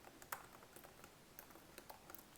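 Someone types on a computer keyboard in steady, uneven bursts of light clicks and taps, close but quiet, with no talking.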